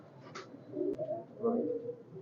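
Oman-bloodline teddy highflyer pigeons coo softly nearby in a few low, rolling calls, mixed with a brief sharp click and quiet talk.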